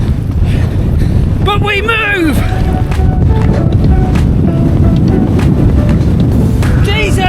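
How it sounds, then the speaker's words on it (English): Strong wind buffets the microphone during a run, a loud, continuous low roar that never lets up, with someone speaking briefly over it. "It's a bit windy"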